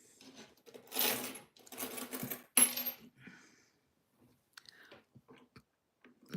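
Loose antique coin-silver coins, among them an 1889 American silver dollar, are handled and dropped, giving several close bursts of bright metallic clinking that give way to quieter, scattered clicks and taps.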